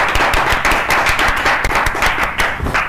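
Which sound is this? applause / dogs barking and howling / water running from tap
applause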